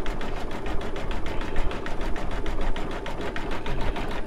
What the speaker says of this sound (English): now we're going to go and do the satin stitch around the